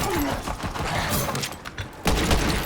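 Gunfire in the video game Borderlands 3: rapid, dense shooting with thuds, ending in a louder burst, loud and close within a busy firefight.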